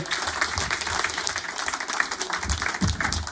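A studio audience at a public radio broadcast applauds a singer, dense continuous clapping from a sizeable crowd throughout, fairly close and even in level.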